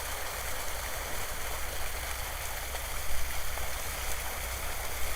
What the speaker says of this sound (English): So a nice little waterfall here.